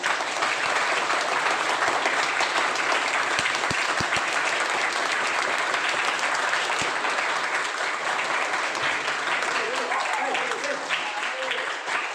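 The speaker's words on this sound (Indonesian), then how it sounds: "Kita beri tepuk tangan" Sustained audience applause at an Indonesian school presentation on positive culture at SMP Negeri 3, dense and even throughout, with some speaking heard under the clapping.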